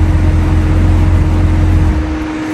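A stock 2020 Chevrolet Camaro ZL1 1LE idles up close with a loud, steady low rumble and a constant hum that eases off slightly near the end, with no talking.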